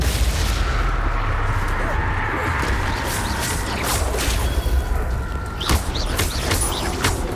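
Spell effects from the Hogwarts Legacy video game, with the Confringo explosive spell among them: a dense, continuous wash of blasts and whooshing impacts, with sharper bursts near the end.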